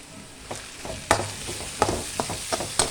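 Chopped tomatoes tipped into a pan and frying, with a soft sizzle under sharp scrapes and knocks of a spoon stirring against the metal at irregular intervals, close and moderately loud.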